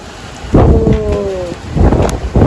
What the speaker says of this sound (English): Oh my gosh, it's raining through the door.